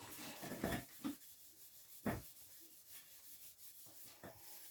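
Wood hand-sanded with fine 600 grit sandpaper in brief up-and-down rubbing strokes, soft and close, with quiet pauses between strokes.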